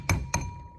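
A chicken egg from backyard hens cracks against a bowl's rim in two quick, close, sharp taps.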